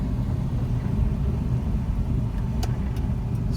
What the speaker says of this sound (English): I'm just gonna go around the corner here in third gear right now